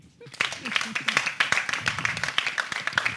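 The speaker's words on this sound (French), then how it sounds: "Je voudrais qu'on applaudisse pour les candidats." After a brief quiet moment, a studio audience at a televised competition breaks into applause for the candidates, with close, distinct hand claps forming a steady, moderately loud patter and some voices underneath.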